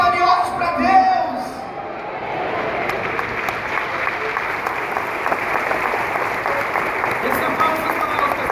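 Audience applause at a lecture, a full and steady wash of clapping that holds at an even level throughout, with a voice speaking briefly at the start.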